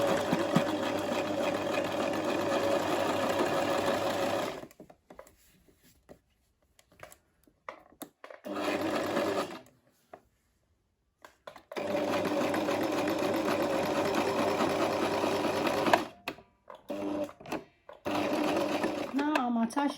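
A sewing machine stitches a shoulder seam on a gathered dress, running in steady whirring bursts of several seconds separated by short pauses.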